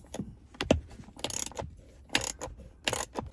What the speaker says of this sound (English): Take out those two 10mm bolts over there, one on each side, left and right.